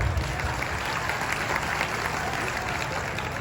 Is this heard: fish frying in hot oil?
no